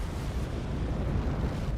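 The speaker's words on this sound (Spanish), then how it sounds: "Y hubo esa gran explosión catastrófica." A deep, sustained rumbling roar fills the whole stretch, a continuous thundering blast like battleship artillery shells detonating in a catastrophic explosion, with no pause or voices.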